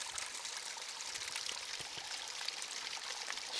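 Water trickling steadily out of the side of a rock crevice along a forest hiking trail, a continuous close splashing and pattering with no pauses.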